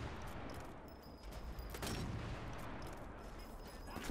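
Gunfire in the video game Sniper Elite 4, a dense, steady wash of distant shots and rumbling battle noise that continues throughout at a moderate level.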